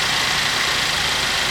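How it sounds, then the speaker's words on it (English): A GMC Acadia engine idles steadily after restarting following a shorted alternator, a loud, even mechanical drone close by with no talking. "Alright, engine started."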